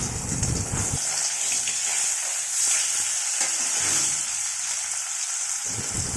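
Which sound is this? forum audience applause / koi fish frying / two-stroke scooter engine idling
koi fish frying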